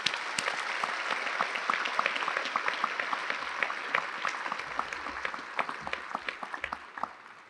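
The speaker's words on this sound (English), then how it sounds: "Can we please have a round of applause for our outstanding graduate faculty?" An audience at a doctoral hooding ceremony applauds the graduate faculty with sustained, dense clapping that is fairly soft and distant and thins into scattered individual claps near the end.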